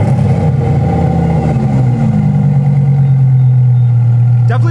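A Lamborghini's exhaust revs loudly and close from outside the car, a deep engine drone that climbs and then settles into a steady rumble, with a sharp crackle near the end.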